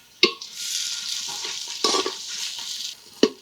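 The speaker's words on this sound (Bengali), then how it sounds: "কম আঁচ রেখে পেঁয়াজটাকে কষাবেন যাতে পেঁয়াজটা ভাজা ভাজা না হয়ে মজে যায় সুন্দরভাবে" Chopped onion with a pinch of salt and whole garam masala fries in mustard oil in a pot over low heat, giving a steady close sizzle broken by three sharp scrapes or knocks of stirring.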